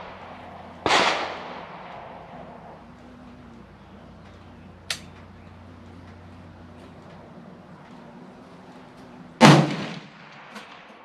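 Rifle shots fired at a target at an outdoor range: two loud, sharp reports several seconds apart, each with a short echoing tail, plus a fainter click between them over a quiet outdoor background.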